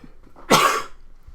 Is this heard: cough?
yes